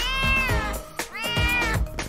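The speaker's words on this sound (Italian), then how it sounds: "Il tuo primissimo gattino!" A kitten meows twice, loud and close, each call a drawn-out rising and falling cry, with small shuffling sounds between them.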